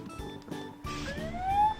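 In the Wheely car video game, a police car siren wails with a rising electronic tone over cartoonish game sounds, short and moderately loud.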